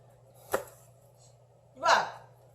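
A knife chops through bone-in red sea bream to cut sekkoshi slices, two distinct cuts, a sharp short chop and then a longer, heavier crunching stroke, heard close over a low steady hum.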